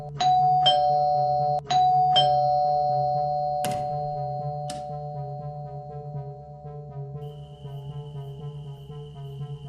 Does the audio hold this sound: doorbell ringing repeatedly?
yes